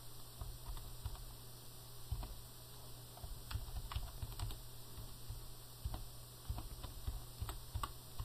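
Someone types on a computer keyboard while entering customer address details, with quick irregular key clicks over a low steady hum, close and moderately quiet, no speech.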